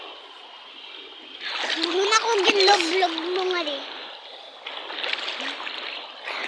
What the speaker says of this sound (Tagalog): Yung ilog namin guys, nandito lang sa malapit sa bahay namin.